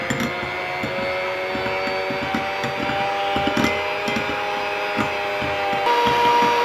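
An electric hand mixer beats butter on low speed for chocolate cake buttercream, a constant close whirring hum with repeated light scraping knocks against the bowl.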